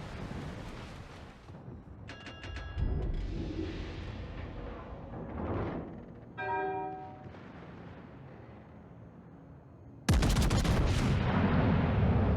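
Warship guns firing in the naval game World of Warships, heavy booming salvos and crackling blasts over wind rumble, ending in a loud sustained roar of fire.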